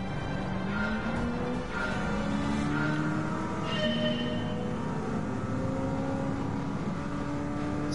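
Supercharged 383 muscle car engine, tuned for road racing, revving hard: a loud, sustained engine roar with rising and falling pitch as the throttle works through the revs, heard steadily up close with no pauses.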